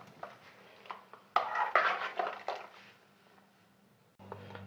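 Ingredients mixed with a spoon in a pot of water with about half a spoon of salt, giving soft irregular scraping and clinking strokes, louder in a short cluster then fading.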